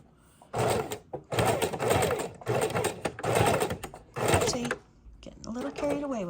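A sewing machine back-stitches lace onto a mini junk journal, running in five or six loud, close bursts of rapid stitching with brief pauses, then a quieter stretch at the end.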